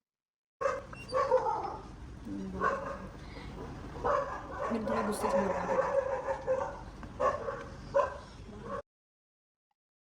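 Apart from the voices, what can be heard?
dogs barking outside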